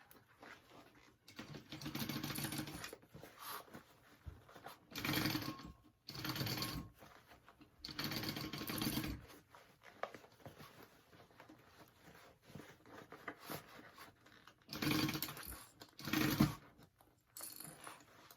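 A sewing machine sews a sling backpack in several short, stop-start bursts spread across a quiet stretch, the stitching fairly faint with clicks between runs.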